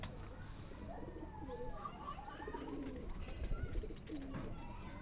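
Breeder pigeons cooing close by, a series of soft throaty coos repeating over a low, muffled background.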